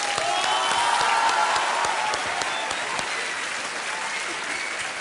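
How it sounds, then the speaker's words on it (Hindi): Loud, sustained applause from a studio audience for a quiz show prize winner, a thick continuous roar of clapping holding steady from start to finish with faint crowd noise mixed in. "तालियां बजती रहनी चाहिए इनके लिए।"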